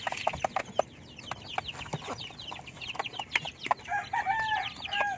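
Small chicks and larger chickens cluck and peep while feeding, with busy overlapping calls and pecking close by and a few louder clucks near the end.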